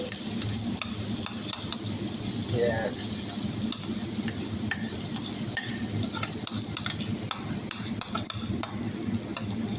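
Pancake batter cooks in a pan with a soft steady sizzle, punctuated by frequent sharp clicks and taps of utensils against cookware; a voice briefly speaks.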